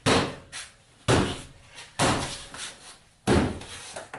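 Toyota Sienna door panel being pounded into its clips by hand, a series of four loud, sharp thumps spaced about a second apart, with fainter knocks between them.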